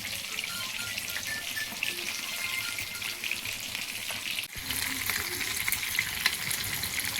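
Fish frying in a pan as a spicy Indian street-style fish fry, giving a steady, loud hiss and crackle of hot oil that continues throughout, with a brief dip midway before the sizzle resumes even stronger.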